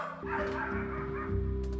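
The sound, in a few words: dog barking on an album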